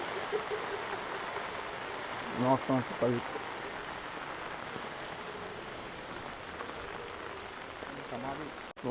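Rain falls steadily outdoors at an ashram temple on the Souparnika river in Karnataka, a constant soft hiss of drops with brief voices talking underneath.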